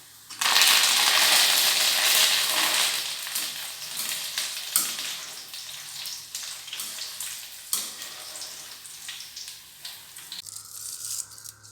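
Curry leaves drop into hot oil while making colocasia chips, setting off a loud, close burst of hissing sizzle that peaks in the first seconds, then settles into a steady crackle with scattered pops and scrapes.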